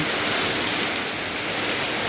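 Heavy rain pours down in a dense, even roar of broadband hiss, steady and close with no letup.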